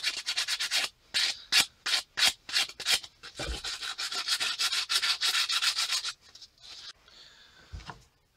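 Hand sanding around the edges of a cast pewter medallion with 220-grit sandpaper: a run of quick, rhythmic back-and-forth rasping strokes, then steadier continuous rubbing, close and fairly loud, with no talking.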